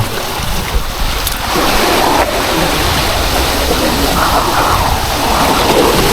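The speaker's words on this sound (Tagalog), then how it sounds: "may lakas ng alon dito." Loud, continuous ocean surf roars and churns while fishing, with gusty wind buffeting the microphone throughout.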